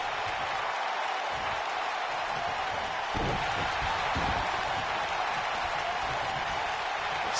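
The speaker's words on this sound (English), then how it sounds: "the crowd is loving it" Crowd cheering and roaring in a wrestling video game on PS4 during a match, a steady broadband wash of noise that swells slightly midway and holds throughout with no clear talk over it.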